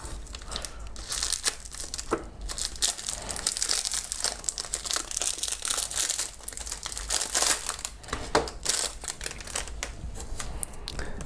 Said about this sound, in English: I'm going to open up the plastic